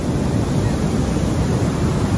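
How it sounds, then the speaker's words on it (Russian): Strong sea waves rolling onto a beach at Salalah, Oman, in monsoon season, a loud continuous roar of surf and wind noise, close and unbroken. "Очень сильные волны."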